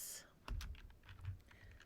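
Soft keyboard typing at a computer during a lesson on files and directories, a short run of quiet clicky keystrokes close by in a hushed room.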